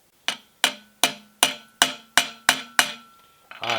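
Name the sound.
hammer tapping a part in on a lathe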